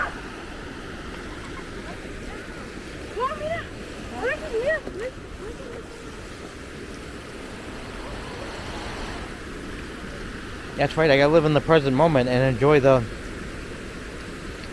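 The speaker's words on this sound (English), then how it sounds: "running water here" Running water from Minnehaha Falls makes a continuous rush in the background. Someone talks over it in two short stretches.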